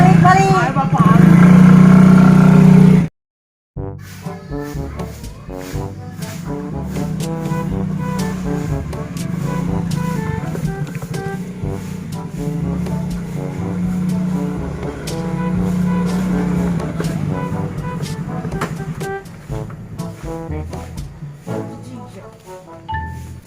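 An old motorbike engine sputters and chugs unevenly at close range, with a brief cut near the start, while people talk over it.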